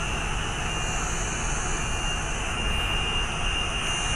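Antonov An-225 aircraft engines roar in a steady, loud, unbroken drone with constant broadband noise and no voices.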